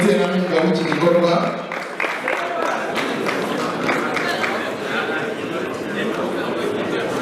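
Sustained applause fills an award ceremony, with steady clapping from a crowd continuing throughout while a presenter talks over it.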